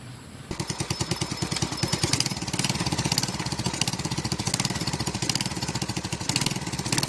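An old, worn-out motorcycle engine runs rough and loud close by, a steady rapid chugging putter that starts abruptly after half a second and keeps going with no voices.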